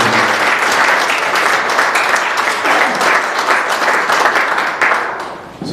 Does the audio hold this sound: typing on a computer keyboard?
no